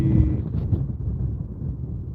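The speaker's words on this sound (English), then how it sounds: "Nope, there's a gust." A gust of tropical storm wind at Simpson Bay, St Martin, a loud low rumbling buffet against the microphone that starts strong and eases slightly over two seconds.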